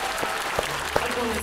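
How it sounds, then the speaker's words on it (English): Steady applause from a crowd at a music performance, a continuous wash of clapping with a few louder thumps cutting through briefly. "Round of applause, man."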